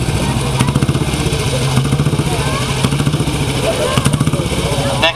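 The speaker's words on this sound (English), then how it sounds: "1937 BSA Empire Star. Near of 350cc, I believe." A 1937 BSA Empire Star 350cc motorcycle idles and pulses at a hillclimb, its single-cylinder beat thudding rhythmically and close, with a commentator talking over it.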